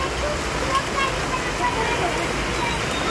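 Heavy rain pours down steadily in Pune, a dense, continuous hiss of water with no break, close and fairly loud throughout.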